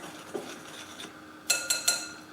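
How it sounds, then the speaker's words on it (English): A whisk stirs flour and baking powder in a mixing bowl, with soft rubbing followed by three quick metallic clinks against the bowl, close and fairly quiet. "Whisk the dry ingredients."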